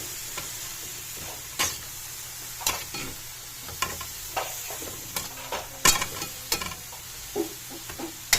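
Vegetables hit a hot pan and are stir-fried for squid ball chicken lomi, with scattered crackles, scrapes and stirring clatters over a steady low sizzle, close by and with no talking.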